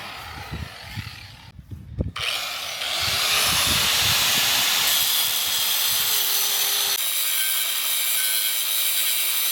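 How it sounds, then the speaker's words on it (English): A harsh grinding cut through a new metal anchor chain starts after a couple of seconds of clanking and rattling, then settles into a loud sustained abrasive screech with a steady whine. "now they're gonna cut the chain."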